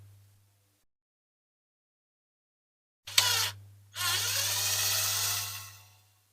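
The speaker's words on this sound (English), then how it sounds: "let's go with the drill. Get it in that hole." A power drill boring a hole in a diecast Corgi Toys Lotus Elan model whirs briefly, pauses, then bores steadily for about two seconds before winding down, loud and close, after a quiet stretch.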